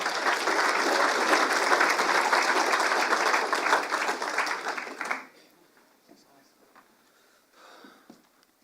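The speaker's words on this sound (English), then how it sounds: "another round of applause for our four presenters this morning" An audience at a Waikato River symposium applauds the presenters, dense steady clapping from a large crowd for about five seconds before it fades out, leaving faint room noise and a few scattered sounds.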